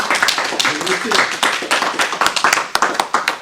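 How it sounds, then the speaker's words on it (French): Studio audience at a French general-knowledge quiz show applauds a contestant, a dense crowd clapping with sharper individual claps standing out, loud and close, with voices mixed in. "On applaudit Jeanne quand même"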